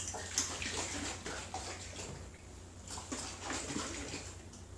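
Honey being stirred into water for dandelion mead, a steady close swishing and sloshing of liquid with faint clinks, continuous throughout.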